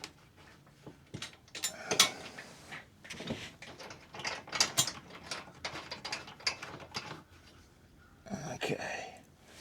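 A ratchet clicks in irregular bursts as it tightens a bolt on a ThumperFab bumper fitted to a Polaris Ranger 570 Mid-Size utility vehicle. The clicking is close, with short pauses between strokes and some metallic clatter.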